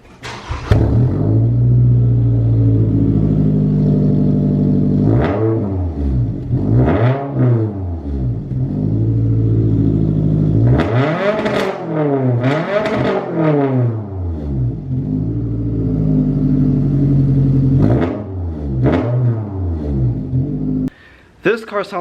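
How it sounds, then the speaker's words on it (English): A warm car with an aftermarket exhaust revs repeatedly, each blip rising into a loud, rumbling rasp and dropping back to a deep idle over roughly twenty seconds, close up and uninterrupted. "let's get an exhaust clip."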